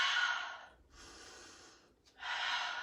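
Forceful breathy exhales during a barre exercise, two long airy pushes of breath close to the ear, split by a short quiet gap, with no speech.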